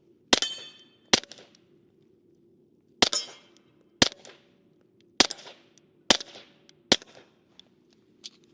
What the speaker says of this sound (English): Let's go ahead and take a few more shots on the metal.